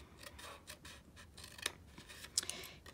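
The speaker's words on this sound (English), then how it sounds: "Cut straight down the score line, and out of this same second panel, take a little V." Scissors snip through paper along a scored fold line while shaping a tiny Ghirardelli-style bag, giving quiet, close rasping cuts with a couple of sharper snips.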